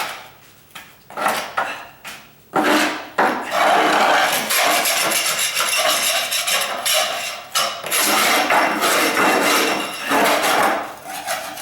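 Repeated sharp knocks and scraping clatter from a hammer pounding oak floor planking flat, irregular and close, with bursts of rubbing between the strikes.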